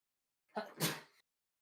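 A single short sneeze, close and clear, with a quick intake followed by a sharp burst, then silence.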